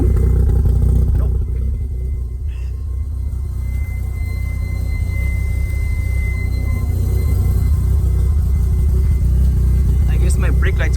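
Mazda FD RX-7 rotary engine running after its first start, a steady loud low rumble that holds throughout, with talk over it and a brief clatter near the end.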